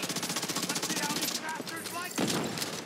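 Rapid automatic gunfire from a firefight in Tom Clancy's The Division 2, a steady rattling burst that fills most of the moment, with a player talking over it.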